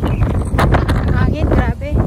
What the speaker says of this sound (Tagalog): Hangin, grabe.